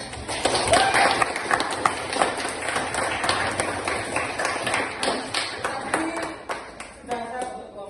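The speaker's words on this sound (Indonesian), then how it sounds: "Tepuk tangan." A classroom of students applauds together, loud and dense at first, then thinning into scattered claps and chatter as voices rise near the end.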